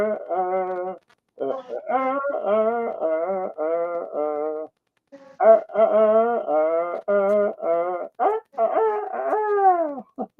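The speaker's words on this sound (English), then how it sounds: "Sing it, chickens." Chickens cluck and squawk in stacked, tuneful phrases that follow a sung happy-birthday melody, loud and close with short pauses between bursts.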